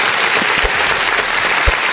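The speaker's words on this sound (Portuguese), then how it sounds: "Uma salva de palmas aí pra eles aí, ó." Audience applause at a talk show episode about sustainability, a short steady clatter of clapping with a couple of low thumps, heard close and fairly loud.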